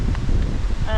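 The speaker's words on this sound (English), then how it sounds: "Very windy." Steady low wind rumble buffets the microphone throughout in a livestock pasture, with a brief tonal sound near the end.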